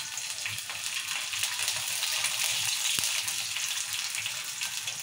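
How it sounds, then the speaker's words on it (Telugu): Chillies frying in hot oil in a kadai, a steady close hiss and crackle of sizzling that holds at an even level throughout with a single sharp tap partway through. "ఇప్పుడు నూనె వేడైంది, మిరపకాయలు వేసుకుందాం."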